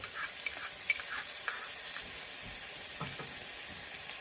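Onion, ginger and garlic fry on low heat in a pan, a constant bright sizzling hiss with scattered soft clicks and scrapes from stirring, close up and without any speech.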